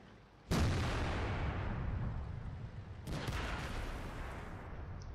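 Heavy tank gun shots in a World of Tanks–style battle involving an Object 268, two booming cannon blasts a few seconds apart over continuous rumbling engine and battle noise.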